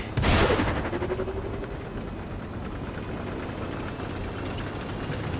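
A tank cannon fires once in a video game, a sharp loud blast that rings out and decays into a long rumbling tail under steady engine drone.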